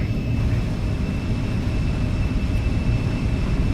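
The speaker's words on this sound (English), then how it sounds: "Auto throttle's engaged. 250 standard speed. Takeoff power is set." Embraer E-jet engines spooling at takeoff power in the X-Plane 12 flight simulator, a steady loud broadband roar with a low rumble and faint high whine tones, constant throughout with no talk.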